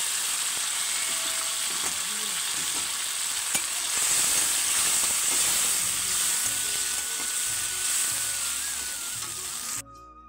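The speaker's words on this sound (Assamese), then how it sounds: "আৰু এতিয়া জিৰা, জলকীয়া চিলতে আৰু এইটো আদা নহৰু পেষ্ট পিঁয়াজৰ এইটো ভালকৈ ভাজি ল'ম মই অলপ টাইম" Cumin, chilli, ginger-garlic paste, onion and tomatoes frying together in a pan for an Assamese village dish, a loud continuous sizzle with occasional stirring scrapes throughout, ending abruptly.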